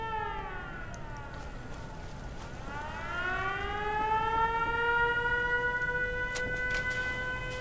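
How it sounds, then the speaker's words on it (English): A settlement gatehouse siren in Fallout 4 is switched on, giving a loud, steady civil-defense-style wail that rises in pitch and holds for several seconds over a constant background hum. "we'll flip the switch on the siren"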